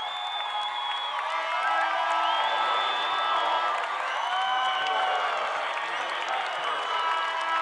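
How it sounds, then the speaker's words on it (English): High school basketball crowd at a 1996 Class D semifinal game standing to cheer and applaud, a steady dense roar of clapping and shouts heard from within the arena, with an announcer talking over it. "Laker crowd can stand and cheer"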